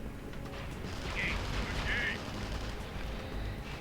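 A bolt launcher fires in the video game Tribes: Ascend, two short bursts over a steady roar of game noise with speech throughout.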